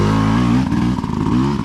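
Sherco trials motorcycle on factory DOT tyres riding a greasy, slippery trail, its engine droning loud and close with rising and falling revs and some clattering.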